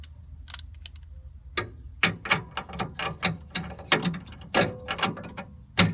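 Sharp ratcheting clicks sound as a CNG high-pressure filter housing is tightened back on, coming in quick uneven bursts of close, crisp ticks.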